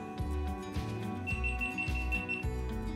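A GoPro HERO 10 camera gives a string of short, evenly spaced electronic beeps as it switches on, faint under a steady musical background.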